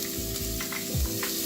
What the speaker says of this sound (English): We're going to saute them for a little bit.